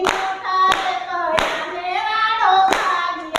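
A group claps in time to a Gujarati devotional kirtan, loud sharp claps landing every half second or so over sustained sung melody and harmonium-like tones.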